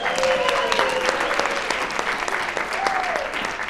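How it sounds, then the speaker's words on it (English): A graduation audience claps steadily in a large room, with whoops and a few voices calling out over the dense applause. "Can we get a round of applause for that?"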